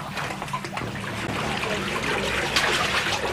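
Water trickles and flows steadily through a deep underground tunnel, a continuous close burbling wash with no voices.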